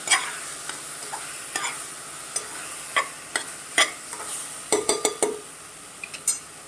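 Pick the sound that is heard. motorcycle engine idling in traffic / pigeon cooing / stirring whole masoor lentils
stirring whole masoor lentils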